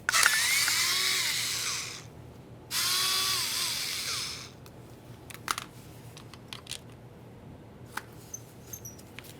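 Power tool spinning out 8mm mounting bolts from a Ford F-150 rear window motor, two bursts of high whirring about two seconds each, then scattered light clicks and taps of handled parts.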